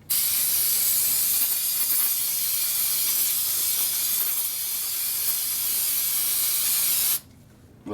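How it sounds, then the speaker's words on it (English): Brake cleaner sprays from an aerosol can in a steady, loud continuous hiss for about seven seconds, then cuts off abruptly. "Little brake cleaner,"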